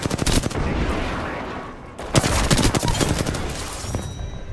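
Rapid automatic gunfire in the video game Apex Legends, loud and dense, with bursts of shots filling the whole clip and a brief dip near the middle before the firing resumes.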